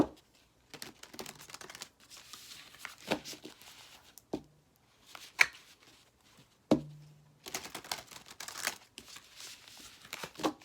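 Papery shuffling and crinkling of tarot cards in several bursts, with sharp slaps and flicks of cards being tossed, close by and fairly quiet.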